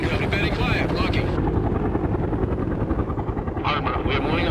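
A Soviet Mi-24 attack helicopter in the strategy game World in Conflict drones with steady rotor chop, loud and continuous, while voiced unit acknowledgements and battle chatter play over it.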